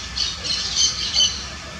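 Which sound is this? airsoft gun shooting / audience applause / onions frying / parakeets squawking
parakeets squawking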